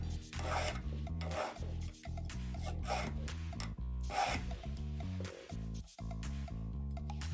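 Rasping strokes of a hand file sharpening a wood auger bit held in a bench vise, repeated every second or so, close and steady over a loud continuous musical background.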